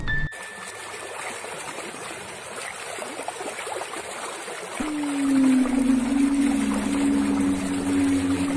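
River water flows steadily in a horror audio drama, a constant broadband rush throughout, with a low droning hum joining about halfway and staying to the end.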